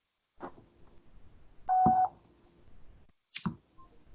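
Telephone keypad tones sound as a few separate beeps, one longer steady tone in the middle and short bursts before and after, close and clear with no talking.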